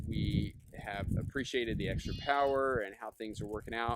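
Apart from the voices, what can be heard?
goats screaming next door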